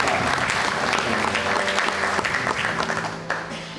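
A church congregation claps together in a dense burst that starts at full strength and gradually thins out over a few seconds.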